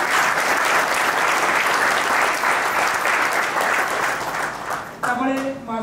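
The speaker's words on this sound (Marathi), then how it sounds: "माझ्या मित्रासाठी एकदा जोरदार टाळ्या झाल्या" A large audience gives loud, dense, sustained applause at a cultural event, the clapping steady and continuous before a voice begins speaking near the end.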